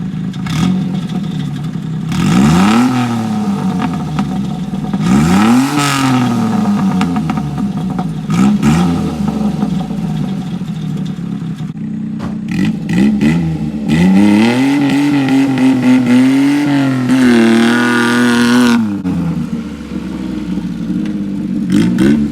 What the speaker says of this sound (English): Mini truck with a dirt bike exhaust, or ATV exhaust, just like that.